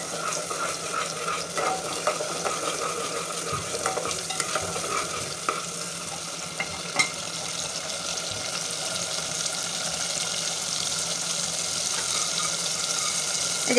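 Onions fried in oil for a shahi chicken korma crackle in a steady sizzle while a spoon stirs and scrapes the pan again and again, close and continuous, without speech.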